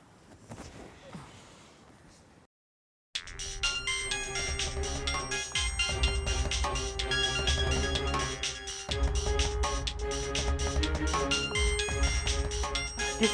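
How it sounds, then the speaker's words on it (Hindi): A mobile phone ringtone plays loudly and steadily for about ten seconds after a short stretch of quiet speech, with a looping melodic tune during an indoor domestic drama scene. "किसका फ़ोन है?"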